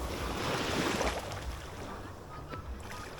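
Sea waves wash onto a beach, a broad hissing surge that swells and then slowly recedes, with a breezy rush around it. No one speaks.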